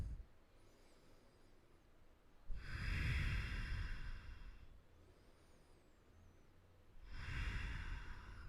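Deep, slow breathing during a prenatal yoga flow: two long, close breath cycles, each a full airy inhale and exhale, separated by quiet pauses.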